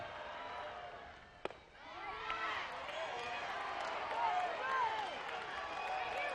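A softball crowd at an Arkansas versus Oklahoma State NCAA regional game comes to life, a swelling murmur and cheer that builds and holds, with a sharp knock early on and voices talking over the noise.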